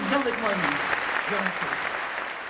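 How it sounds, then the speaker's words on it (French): An audience in a studio applauds for Émilie, with steady clapping filling the whole stretch while someone talks over it. "Vous avez reçu un tonnerre d'applaudissements pour Émilie."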